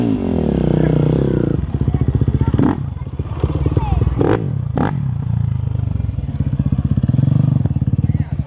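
A trail motorcycle engine revs close by with a rough, pulsing rumble, blipping the throttle repeatedly in short bursts with brief drops between, while people talk loudly over it.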